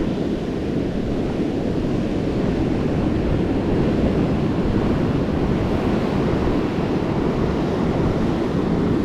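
Strong wind buffets the microphone over constant rolling surf on a beach, a dense, steady roar with no voices.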